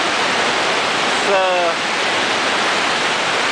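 Rushing stream water in a rocky gorge, a steady broadband roar filling the whole clip, with a brief voice heard faintly over it near the middle.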